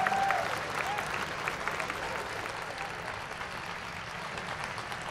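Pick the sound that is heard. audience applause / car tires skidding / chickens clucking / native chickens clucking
audience applause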